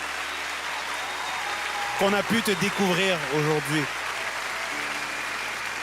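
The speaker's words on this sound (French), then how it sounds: "On les applaudit, on les applaudit." A talent show audition audience claps steadily throughout while someone speaks briefly in French over the applause.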